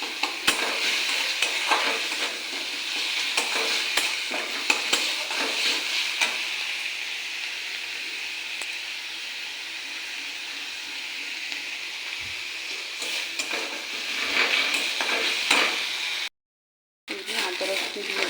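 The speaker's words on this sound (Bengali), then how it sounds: "সেই কড়াইতে তেল দিয়ে দিয়েছি, পেঁয়াজ আর কাঁচা লঙ্কা দিয়ে দিয়েছি" Onions and green chillies frying in hot oil in a kadai, a steady close sizzle with stirring scrapes throughout, briefly cut off near the end.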